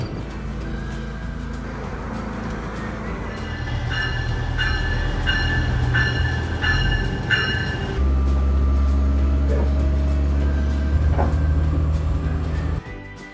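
A steady rumble inside the moving UP Express airport train in Toronto, with a constant low drone and a faint mechanical whine rolling on without a break. No one speaks.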